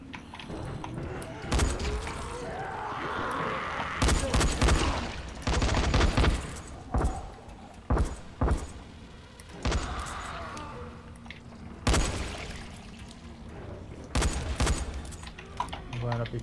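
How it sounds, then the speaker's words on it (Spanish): Sharp bursts of gunfire in Dying Light crack out in clusters, some single shots and some rapid volleys, over busy game sound effects and background noise. "Ya ha sido un disparo efectivo"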